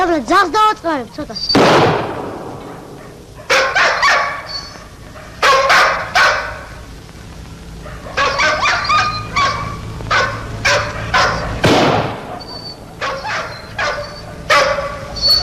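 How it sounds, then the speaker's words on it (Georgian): A dog barks loudly and repeatedly nearby in bursts of sharp woofs and yips, with pauses between volleys and voices talking in between, in a 1974 Georgian film scene. "გაჩუმდი რა, გაჩედი ძაღლი."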